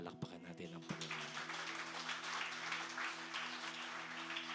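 A congregation at a night worship and miracle service applauds, a broad, continuous wash of clapping heard at moderate distance with faint voices and a sustained musical tone underneath.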